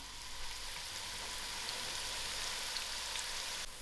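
Onions fry in a pan as they brown for chicken dhal gosht, a soft, even sizzle that holds steady throughout and then cuts off sharply near the end, with no talking.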